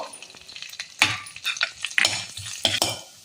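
Garlic cloves frying and being stirred in a pan for tomato soup, with a steady sizzle broken by several sharp scraping stirs of a utensil against the pan, close and moderately loud, no talking.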